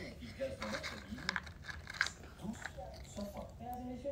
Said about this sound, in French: elle les croque avec ses dents de devant